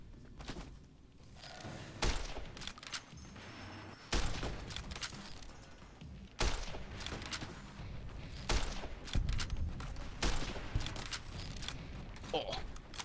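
Gunfire in the video game Fallout New Vegas, distant street shooting as irregular sharp bangs and thumps in short bursts, heard under someone talking over it.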